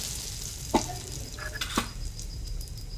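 Cumin seeds and asafoetida sizzle quietly in hot oil, a soft steady fry marked by two sharp utensil taps and a brief clink.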